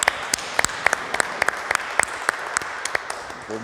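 Scattered applause from a small church congregation for children who have just been baptized and confirmed, with sparse, uneven claps rather than a full ovation, sounding moderately close in a reverberant room.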